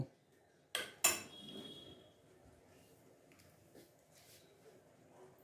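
A spoon clinks twice against a bowl while peanut chutney is mixed with salt, followed by soft scraping and stirring sounds as the mixing continues quietly.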